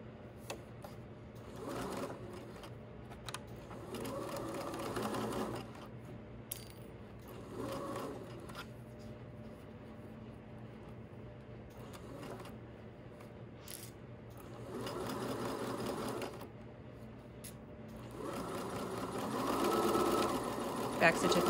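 Sewing machine stitching the base seams of a fabric bag, with backstitching at the ends, a steady mechanical hum rising in several bursts between quieter stretches, with a person talking throughout.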